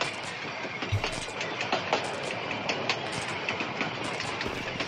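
A small rail car rolls along tracks in Heaven Dust 2 with a steady rumble and repeated clickety-clack knocks at an even rhythm, close and fairly loud, with no talking.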